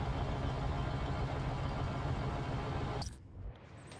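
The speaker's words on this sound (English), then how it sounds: "Sounds like an engine." Car engine idling in Marvel's Spider-Man: Miles Morales, a steady low, broadband rumble held for about three seconds before cutting off abruptly into near quiet, faint overall with no voices.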